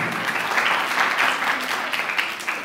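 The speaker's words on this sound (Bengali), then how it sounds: "ওদের জন্য আরেকবার জোরে হাততালি" An audience claps for a children's dance at an Independence Day and Janmashtami celebration, a warm, sustained round of applause from many hands, fairly close and steady before tapering slightly.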